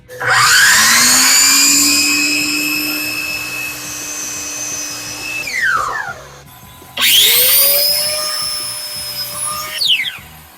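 A power saw cuts a wooden piece for framing in two passes, each a loud motor whine that spins up, bites into the wood with a lower droning load, then winds down, with a short pause between cuts.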